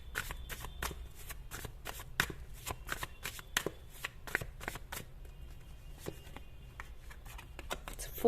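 Tarot cards are drawn and handled in a rapid run of crisp, close flicks and slaps, with a faint voice now and then underneath.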